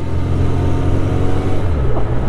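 A 52-year-old Honda CB750 Four with its four-cylinder engine running while ridden, giving a steady, loud, close rumbling drone with a slight rise in pitch near the end, and no talking.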